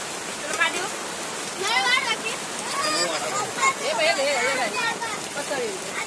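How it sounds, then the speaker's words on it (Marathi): Heavy rain roars steadily in the background at Keri Beach, Goa, while people talk over it. "पाऊस खूप जोरात आहे."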